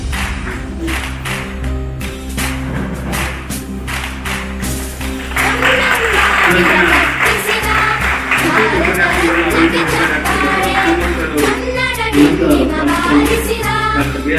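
Audience applause at a university seminar in Bidar marking Article 371J amendment day, steady clapping that swells and grows denser partway through, heard alongside a low steady hum and some voices.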